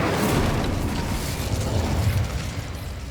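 A fire spell cast in the video game Hogwarts Legacy bursts out as a dense roaring blast, loud and close, with rumbling, crackling flame noise that stays strong before easing slightly.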